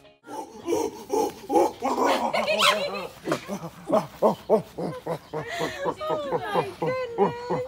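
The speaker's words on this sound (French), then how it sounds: "Il se met à grogner et sauter de joie et d'excitation." An excited dog growls, grunts and yelps in quick bursts while jumping about on its owner's return, loud and close with voices mixed in throughout.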